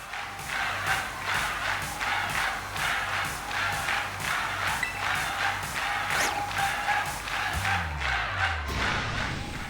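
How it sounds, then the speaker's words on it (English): A loud, dense crowd roaring and cheering in the Pokemon Violet video game, with rhythmic thumping beats pulsing steadily throughout and a low descending tone near the end. "What's all this noise I'm hearing? Crowd so loud it could wake the dead."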